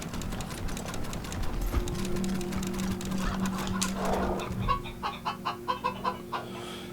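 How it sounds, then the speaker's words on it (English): Chickens cluck in the post-apocalyptic RPG Wasteland 3, a cyborg chicken among them, with a run of close, rhythmic clucks that sharpen toward the end over a steady electronic hum and ambient game background. "we should have gotten rid of the cyborg chicken"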